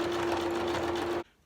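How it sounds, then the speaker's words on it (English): A sewing machine zigzag top stitching over small fabric scraps on a quilt, a steady close whirring hum with a rapid needle rhythm that runs for over a second, then stops abruptly. "I can aim for that piece and sew over it."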